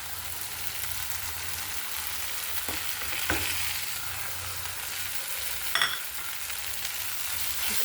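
Crushed chili, turmeric, coriander powder, fenugreek and pepper sauté in oil in a pan with a steady close sizzle and occasional scraping stirs, no voices.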